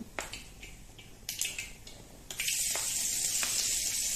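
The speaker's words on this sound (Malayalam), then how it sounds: "കടുക് പൊട്ടാൻ തുടങ്ങിയിട്ടുണ്ട്." Mustard seeds popping in hot oil in a pan: scattered sharp little pops and crackles at first, then a louder steady sizzle that sets in midway and carries on with occasional pops.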